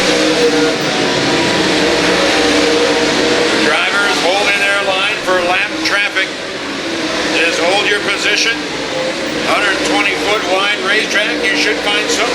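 USMTS race cars roar around a speedway track, their engines droning and surging as they come off a turn, with a commentator's voice talking over the noise.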